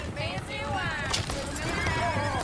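A horse neighs in Red Dead Redemption II, a rising, wavering whinny over hoofbeats and game ambience, with speech running faintly beneath.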